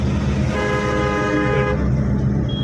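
A single car horn sounds one sustained honk of about a second over loud highway traffic rumble.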